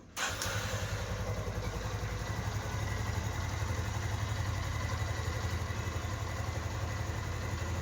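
A restored Karizma motorcycle engine fitted with a kill switch starts with a brief catch, then settles into a steady, loud idle that runs unbroken for several seconds with no talking.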